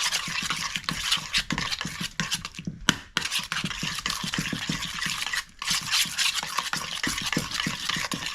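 A spoon or spatula working through butternut squash sourdough discard bread batter in a bowl, close rhythmic scraping and wet stirring strokes that repeat steadily with a brief pause, no speech.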